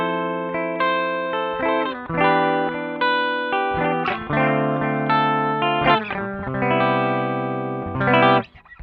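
Clean electric guitar chords from a Gibson ES-335 on the middle pickup position, Ibanez TS9 Tube Screamer bypassed, ring out with clear sustained notes, strummed in several phrases with short pauses, then cut off abruptly at the end.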